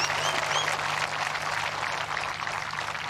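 Golf gallery at the Scottish Open cheering and clapping for a birdie, a sustained roar of applause from a large outdoor crowd with a few faint bird calls above it.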